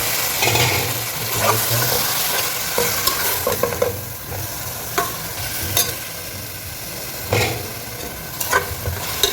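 Beef fries in a pan with tomato and is stirred steadily, a constant close sizzle broken by repeated scraping strokes of the spoon.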